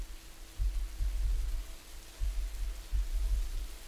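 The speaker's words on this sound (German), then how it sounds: "Wow, was ein geiler Regen" Rain falls in the video game Rising World, a steady hiss of wet static broken by bursts of heavier low drumming.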